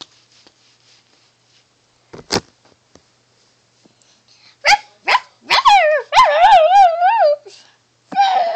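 Puppy in a Lalaloopsy cartoon snow scene, giving a few sharp yips, then a run of high wavering whimpering barks close up, with silent gaps between them.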